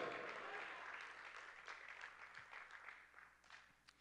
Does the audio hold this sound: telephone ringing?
no